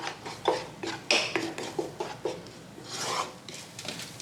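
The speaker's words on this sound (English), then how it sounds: "I'm just gonna saute this for a couple minutes" Vegetables with ground turmeric sauté in a pan for a curried cauliflower soup, with a series of short, rasping scrapes and dull knocks from a spoon being pushed through the food, close and without speech.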